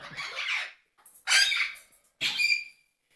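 Pet parrots in a group give three loud, harsh squawks, each about half a second long, separated by short silences.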